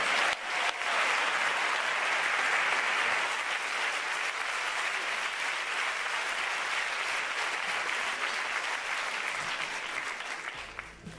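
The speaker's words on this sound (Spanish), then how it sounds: "Un fuerte aplauso para ellos." Sustained applause from a large theater audience at a school anniversary event, loud and steady for about ten seconds before tapering slightly at the end.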